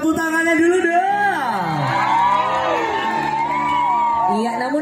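Cheering, whooping and yelling from an audience at a fashion show where officials parade in South Sulawesi batik, a dense continuous crowd roar with voices mixed in throughout.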